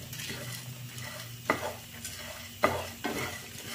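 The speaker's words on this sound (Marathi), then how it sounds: "तोपर्यंत हे सर्व साहित्य आपण भाजून घेऊया" Spices, grated coconut and curry leaves dry-roast in a pan for a Karnataka rice dish, with steady rustling stirring and a few sharp scrapes of the spoon against the pan, close and moderately loud.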